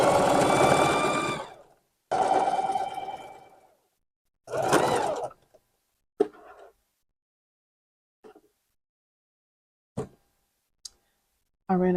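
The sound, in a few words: sewing machine stitching fleece Santa hat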